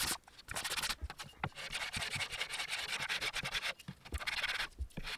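A Harley Benton DC guitar kit body is sanded by hand with a block, giving repeated close, rhythmic rasping strokes with brief pauses between passes.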